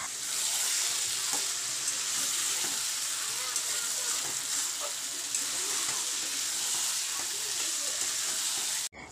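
Potatoes and spiced meat sizzle steadily in hot oil in a pan, a loud continuous frying hiss with soft scraping of stirring underneath, heard close and uninterrupted.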